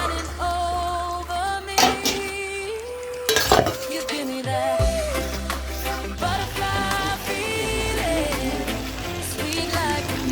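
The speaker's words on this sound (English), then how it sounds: "Let's cover it a bit and cook." A lid is set onto a cooking pot of simmering pigeon peas. It lands with a couple of sharp metallic clanks over steady background music.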